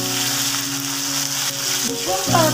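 Ground ginger paste hitting hot oil in a frying pan for a Bengali village-style pabda fish curry, a steady close sizzle with a stirring scrape and a brief rising whine near the end.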